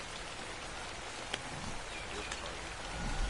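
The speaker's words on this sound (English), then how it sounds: "Oh god, it's raining. It's pouring." Steady rain hiss in a video game, a pouring downpour forming a constant wash of falling water, with a couple of faint sharp ticks partway through.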